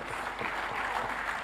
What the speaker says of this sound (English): Can we give him a resounding applause?